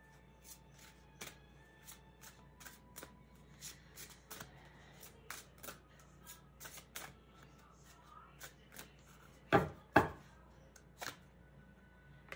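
Tarot cards are shuffled in quick, crisp riffles and taps, a series of sharp flutters with a couple of louder snaps near the end.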